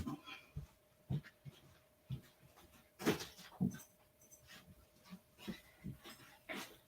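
A dog roaming around an office, heard as a series of faint, irregular thumps and knocks with some soft whimper-like sounds, some distance from the microphone, with no talking.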